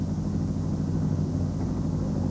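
Steady engine drone inside a small plane flying over Puget Sound, a low continuous rumble with no breaks, heard alone at moderate level.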